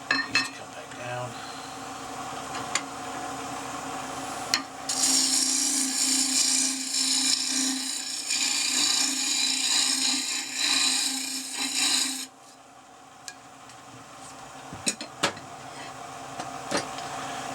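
A spindle gouge cuts into pear wood spinning on a lathe while a box is rough turned, giving a loud, steady rasping scrape for several seconds between quieter rubbing and a few sharp ticks.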